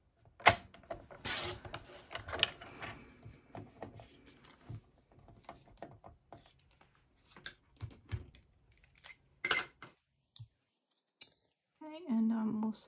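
Scissors snip a strip of paper trimmed to 2 centimeters wide in short, close crisp cuts scattered between quiet gaps, with a brief rustle near the end.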